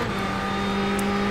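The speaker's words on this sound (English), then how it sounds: "I'm driving a GT3 Ferrari at Le Mans on the final lap" Ferrari 488 GT3 race car at speed on the Le Mans circuit, its engine a loud, steady onboard drone with sustained harmonic tones and no talk.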